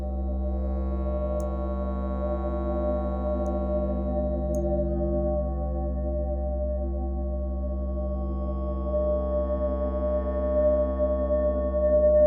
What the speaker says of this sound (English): use this sine wave. It's kind of a sub bass